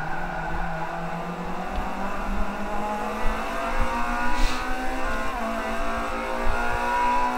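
A race car engine in Forza Motorsport 5 revs and climbs through gears, its loud, close drone sliding upward in pitch with a brief tire squeal midway.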